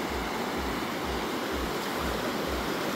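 River water rushing over a spillway after heavy mountain rain, a continuous broadband roar with a soft, pulsing low rumble, steady and fairly distant.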